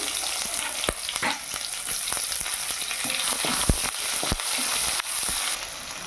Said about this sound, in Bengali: ওই একই তেলে আমি দিয়ে দেবো ফোড়নে কিছু দেবো কালো জিরে, তারপর দেবো পেঁয়াজ কুচি